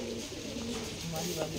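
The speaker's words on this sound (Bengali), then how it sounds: "এটা হলো অরিজিনাল মাছরাঙা বাজির কবুতর" An original Rajshahi Giribaz pigeon of the Machhranga baji line gives low, soft cooing, steady and close, with voices murmuring in the background.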